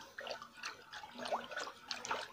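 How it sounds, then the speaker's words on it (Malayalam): Curd is stirred into about a litre of water, giving soft, quiet liquid swishes and small splashy bursts at an irregular rhythm, close by and alone. "ഈ തൈര് നല്ലപോലെ ഈ വെള്ളത്തിൽ മിക്സ് ചെയ്യുക"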